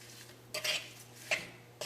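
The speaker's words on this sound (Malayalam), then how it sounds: "ഇതെല്ലാം കൂടിയിട്ട് നമുക്കൊന്ന് മിക്സ് ചെയ്യാം." A spoon stirs mango curry spices in a metal pot, giving a few quiet scraping clinks at irregular intervals over a low steady hum.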